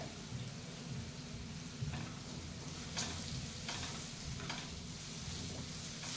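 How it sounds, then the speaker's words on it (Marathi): Samosa filling frying in a pan as chili powder and turmeric are stirred in, with a steady soft sizzle and faint scraping stir strokes throughout, no voices. "चांगले असे हलवून घ्यायचे."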